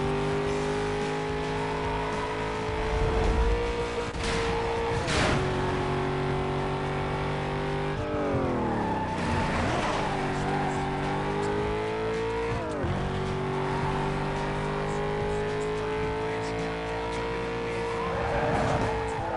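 A car engine revs hard and shifts through gears in Need for Speed Most Wanted, the pitch climbing and dropping repeatedly, with bursts of tire squeal and skidding, loud and continuous throughout.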